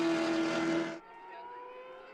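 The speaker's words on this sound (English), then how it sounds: "I love the historic sound of these cars." Historic race cars at Road Atlanta, a loud engine drone with a steady harmonic whine that cuts down abruptly halfway through and carries on more faintly, like a car passing and moving away.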